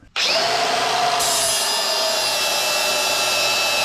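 A power tool grinds rivets flat on an OBS-era Ford truck frame. It starts abruptly with a loud, steady, high-pitched whine that holds without a break, close to the listener.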